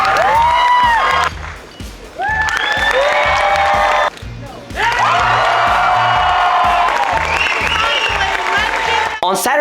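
A convention crowd at Gen Con applauds and cheers a costume contest winner, loud and close, with clapping, whoops and shouts breaking into bursts between short dips. Voices and music run underneath.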